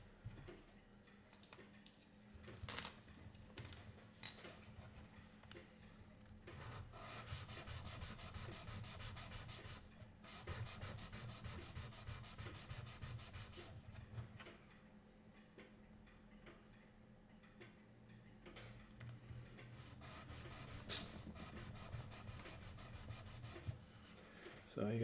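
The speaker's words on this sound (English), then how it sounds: "I can sand this one down," A violin bow frog being sanded by hand, steady rubbing strokes that come in long bursts with short pauses, close and fairly loud, with faint background ticking.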